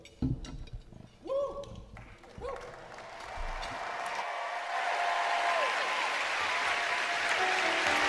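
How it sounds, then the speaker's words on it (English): Applause and cheering from an awards-gala audience start sparse and quickly swell into a loud, sustained wash of clapping and crowd noise that fills the rest of the span. "That sound, the sound of cheering"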